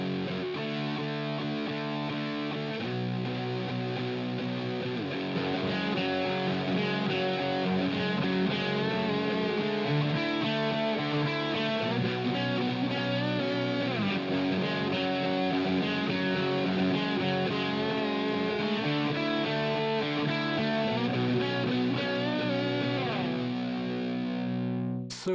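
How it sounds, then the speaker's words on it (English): Harley Benton JA-25th electric guitar on the bridge pickup, distorted, chugs through a steady riff of heavy, sustained power chords, loud and continuous, ending abruptly. "And some distorted tones on the bridge pickup."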